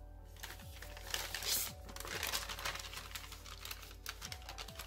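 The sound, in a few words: paper being mountain folded for origami Santa crane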